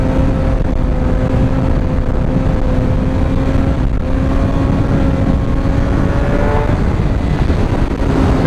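A Suzuki GSX-R 750 motorcycle engine holds a steady high drone at about 7,000 RPM, loud and close, its pitch nearly constant before rising slightly near the end, with no voices.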